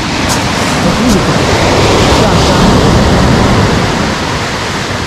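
Strong sea waves roll and break continuously on a fine-sand beach at Lazarevskoye near Sochi, a loud, steady broadband wash of surf filling the scene with no distinct pauses.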